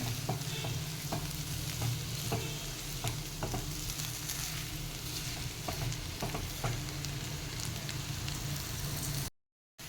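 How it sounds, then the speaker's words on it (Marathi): Potatoes sauté in a hot pan for a masala dosa filling, a dense continuous sizzle broken by regular stirring clicks and scrapes, close and steady for about ten seconds before cutting off. "बटाटा घालूयात तो एक एखाद दोन मिनटं परतून घेऊया"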